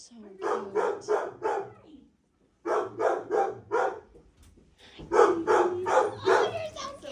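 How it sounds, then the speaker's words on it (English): Puppies bark at an animal shelter in repeated quick bursts of yaps, close and fairly loud, with a short pause before the barking starts again more densely, and people talk nearby. "look at those puppies"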